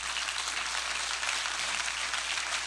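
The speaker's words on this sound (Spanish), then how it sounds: "Dar un aplauso al Señor" A church congregation applauds in a sustained, dense wash of clapping that stays steady and fairly loud throughout, with no speech over it.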